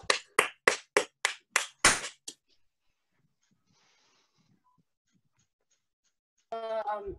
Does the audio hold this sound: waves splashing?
no